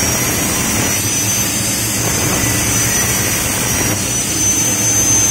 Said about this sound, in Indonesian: Kemudian kita potong menggunakan mesin potong ya.